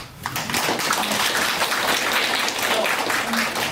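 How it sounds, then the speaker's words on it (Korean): Audience applause at a redevelopment project meeting, a steady wash of many hands clapping together for a few seconds, fairly loud and continuous. "자, 거기에 대한 박수 한번 쳐주시죠"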